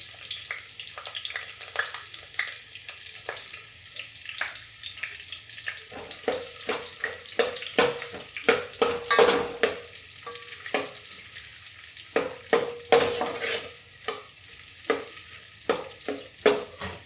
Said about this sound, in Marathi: आता यामध्ये आपण कांदा घालून घेऊया.